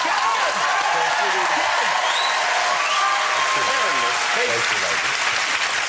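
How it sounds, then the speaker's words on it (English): A television studio audience clapping loudly and steadily, while several guests talk and laugh over the applause. "Why did I just clap at our own movie?"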